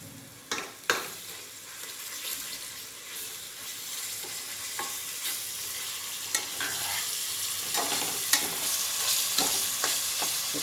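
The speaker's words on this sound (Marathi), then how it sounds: "हे बघा, हे अद्रक लसूण पेस्ट टाकून घेते." Ginger garlic paste frying in a hot pan with asafoetida makes a continuous loud sizzle and hiss, broken by a few sharp spatula knocks and stirring scrapes, close up with no talk.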